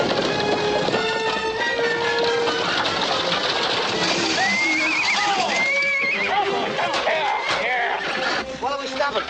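Horses pulling a wagon whinny and neigh over a busy, noisy background, with several shrill calls clustered near the end and voices talking.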